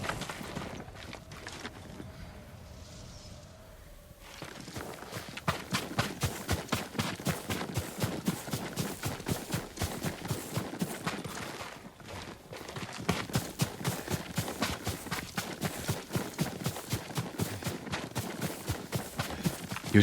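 Rhythmic horse hooves clip-clop steadily at a brisk trot in the video game Ghost of Tsushima, fairly close and moderately loud, with a brief pause before the hoofbeats resume.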